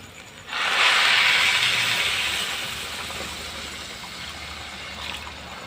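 Water pours into a pan of sautéed vegetables for dalia khichuri, setting off a sudden loud hissing rush that slowly fades into a softer steady simmer.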